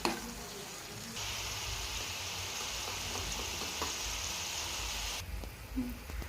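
Sugar-water tempering for dhokla sizzles and bubbles steadily in a pan for several seconds, a bright frying hiss that stops abruptly near the end, with faint clatter around it.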